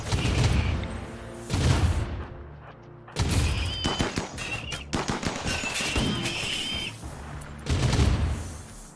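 Turret gunfire from RimWorld, with mini turrets and larger turrets firing in several loud bursts separated by short pauses, plus heavier booming impacts and a dense stretch of rapid shots in the middle.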